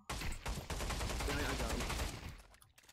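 Rapid automatic gunfire from a French gun in the Pavlov VR shooter, a dense sustained burst lasting about two seconds before tapering off, loud and close.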